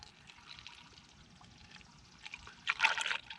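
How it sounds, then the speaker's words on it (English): 0W-20 motor oil pours gently into the engine of a Honda Accord 2.0 Turbo Sport, a faint, quiet trickle that grows into a louder gurgling splash near the end. "You hear it draining down into the engine."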